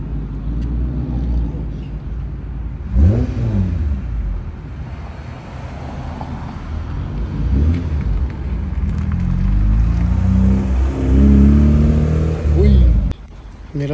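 At a Cars and Coffee supercar meet in Dallas, a BMW M4 Competition or M2 engine rumbles and revs loudly nearby, with the rise and fall of the revs mixed among people talking.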